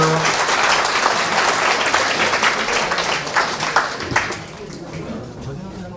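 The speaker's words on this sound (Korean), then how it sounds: "수고해 주신 원장님 박수 한번 주세요" An audience at a hair salon demonstration applauds the salon director, steady dense clapping from many hands that fades after several seconds, with some chatter mixed in.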